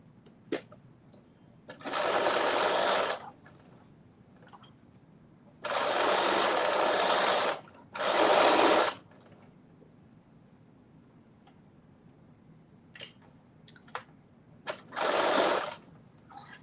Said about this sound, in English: now I'm just doing my basting stitches around the armholes.